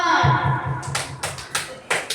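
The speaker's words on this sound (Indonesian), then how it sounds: "tepuk tangan untuk kelompok 4" A class of sixth-grade students claps for group 4 in an Indonesian science lesson: a few scattered, uneven claps at a moderate distance, fading into sparse taps, with a voice talking at the start.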